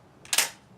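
Single sharp crack of a 1945 Swiss K31 rifle fired at a range, a brief bright report with a short decaying tail, somewhat distant and heard alone.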